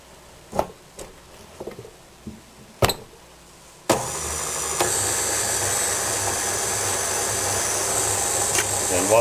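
Brownie batter with melted chocolate being mixed in a bowl by an electric mixer, a steady whirring drone that starts abruptly after a few light clatters and runs continuously to the end.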